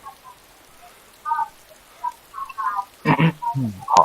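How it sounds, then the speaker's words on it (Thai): Rain falling in the video game DayZ, heard as faint, sparse drips and light patter on a quiet background, with a few louder splashy bursts near the end. "มีฝนตก อยู่นานไม่ได้เนี่ย"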